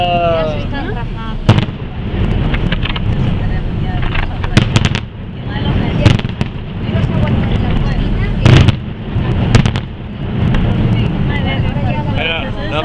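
Fireworks display over Blanes on a summer Saturday night: repeated booming bursts and crackling pops over a continuous rumble, with people talking nearby throughout.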